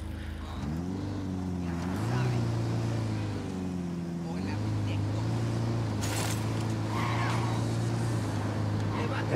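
A car is driven in the video game Ghost Recon Wildlands, its steady engine drone rising and shifting in pitch at a near, loud level while people talk over it.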